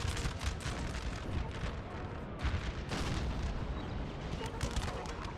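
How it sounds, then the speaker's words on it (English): Napoleonic-era artillery firing in a 4v4 Napoleonic Total War 3 battle at Tolentino, a dense continuous roar of distant booms and crackling volleys with no clear pauses. "We do have artillery up, firing now for Naples"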